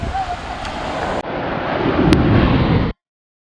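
Sea waves break and wash steadily on Golden Beach at Poovar, a broad continuous surf roar with wind buffeting the microphone, cut briefly midway and then swelling slightly louder before ending abruptly.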